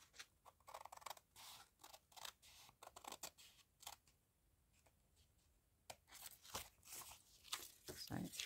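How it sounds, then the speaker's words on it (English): Close, quiet snips and crisp rustles of scissors working through paper, coming in short irregular bursts. "I think I'll just cut it, just because I've already got the scissors in my hand."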